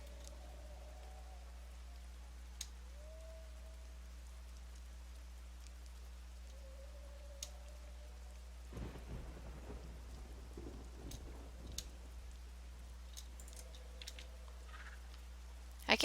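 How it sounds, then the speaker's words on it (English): Steady rain in the game EverQuest II patters softly under a low rumble of thunder, with faint clicks and brief noises scattered through. "I just really wish it would stop raining. It never stops raining here."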